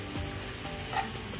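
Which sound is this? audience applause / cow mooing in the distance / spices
spices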